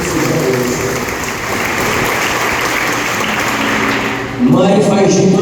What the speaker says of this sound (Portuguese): uma salva de palmas para as mães.